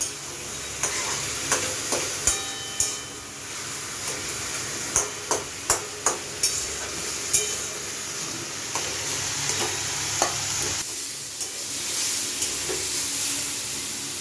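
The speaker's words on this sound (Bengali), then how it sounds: "এর মধ্যে বাদামগুলো ভেজে নেব" Steady sizzling of nuts frying in a pan, with repeated sharp scrapes and clinks of a spatula stirring them, close and continuous.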